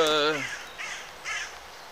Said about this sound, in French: il y a un corbeau qui gueule